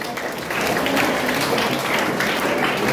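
Applause breaks out for a team at a school quiz competition in Bengal, a dense, steady crowd of clapping that swells after a moment and carries on loudly to the end.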